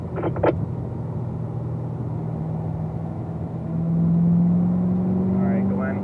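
A car on a race track revs and pulls through the gears, its engine droning steadily and rising in pitch and loudness partway through after a brief clatter at the start.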